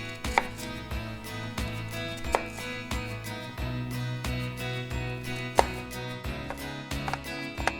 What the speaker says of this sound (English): And then just cut them into chunks.